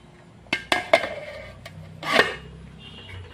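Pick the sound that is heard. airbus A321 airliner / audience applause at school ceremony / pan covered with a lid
pan covered with a lid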